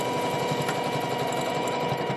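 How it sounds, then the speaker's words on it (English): A sewing machine runs steadily and loudly up close, stitching a seam back up on a backpack being upcycled into a coat, a continuous whirring drone with no pauses and no talking. "And then I'm just gonna sew that seam back up."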